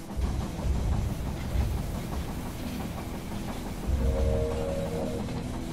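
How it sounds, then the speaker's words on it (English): A train pulling in during the zombie-survival strategy game They Are Billions, a steady rumbling engine and rolling rail noise with a brief squealing tone near the end, continuous and fairly close. "The train has arrived."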